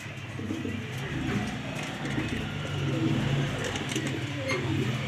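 Domestic pigeons, male and female, coo in a loft. There are soft, low, repeated burbling coos over a steady background murmur, fairly faint and continuous.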